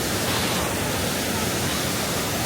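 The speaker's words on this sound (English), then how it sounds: "I suppose I should show you some of the gorgeous waterfalls and not just me." Steady, broadband rush of water from a waterfall in Croatia, a continuous close roar with no breaks across the whole stretch.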